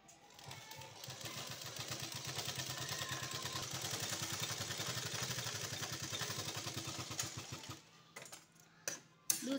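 A sewing machine run slowly while stitching a zari work sleeve, a soft steady rhythmic clatter of the needle that continues for most of the time, then stops with a few faint handling clicks.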